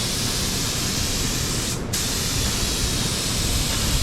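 A DeVilbiss FLG4 spray gun lays down a paint coat with a steady, close, broadband hiss that runs throughout, briefly interrupted by a short dip near the middle.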